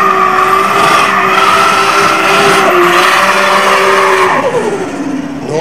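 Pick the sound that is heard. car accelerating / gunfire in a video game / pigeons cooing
car accelerating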